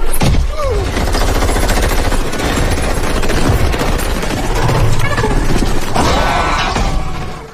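Rapid bursts of film gunfire fired at spiny white alien creatures, loud and dense, mixed with mechanical clatter and shattering debris in a dramatic movie scene.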